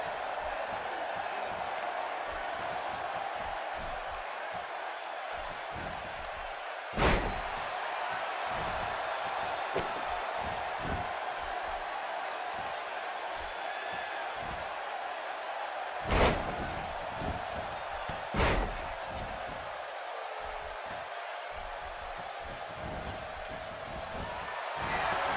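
A boisterous arena crowd in the wrestling video game WWE 2K18, set in Des Moines, roars steadily throughout, with a few sharp slams cutting through and a commentator's voice faintly mixed in.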